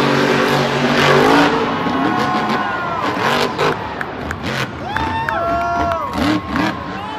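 Revving engine effect for a toy monster truck, loud roaring acceleration with crowd cheering underneath, climbing and falling revs across the whole stretch.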